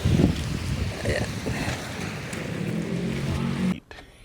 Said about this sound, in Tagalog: Asarap nung tunog nung hampas ng tubig sa talampasigan.